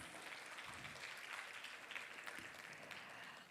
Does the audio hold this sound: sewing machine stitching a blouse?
no